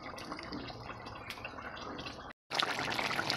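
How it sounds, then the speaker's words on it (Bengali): Lime juice is squeezed into a turmeric and gram-flour batter for small hilsa fish, a soft, close trickle and patter of drips with a brief pause midway. "পাতিলেবুর রস দিয়ে দিচ্ছি।"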